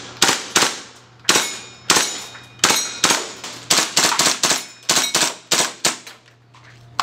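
A KWA Kriss Vector airsoft gun fires rapid burst rounds: a dozen or more sharp, snappy cracks in quick clusters, loud and close, with bright metallic clicks and no talking.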